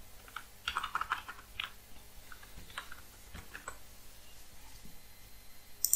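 Keys clatter on a computer keyboard while text is typed into a design app, quick irregular bursts of close, light clicks with short pauses between them and no voices.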